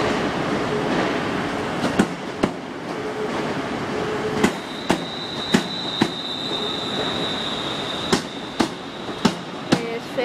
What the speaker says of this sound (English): watching a London Midlands train departing